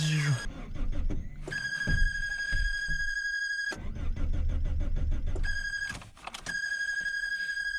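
A 1997 Suzuki Escudo idles in severe frost with a steady low engine rumble, broken up by sharp high-pitched electronic beeping tones that start and stop; someone talks throughout.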